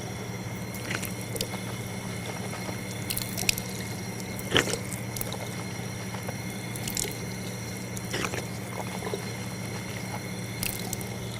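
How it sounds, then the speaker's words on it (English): Water runs steadily from a tap during wudu as the mouth is rinsed, with a constant close splashing stream and a few drips and small knocks. "After that, washing the mouth 3 times."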